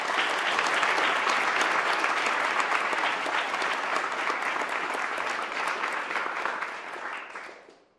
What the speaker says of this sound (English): I'd like to have just a round of applause for James Phillips